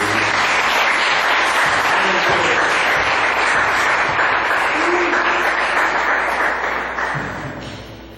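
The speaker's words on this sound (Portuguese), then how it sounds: "Você pode aplaudir." A church congregation applauds during a Portuguese-language sermon, loud dense clapping filling the room for several seconds and gradually tapering off at the end.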